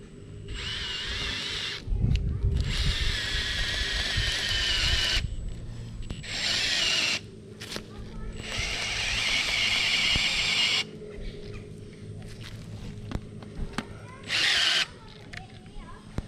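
A cordless drill fitted with a 13mm socket bit whines in several long bursts as it drives a heavy duty tent peg into the ground, with short pauses between runs and grinding noise under the motor.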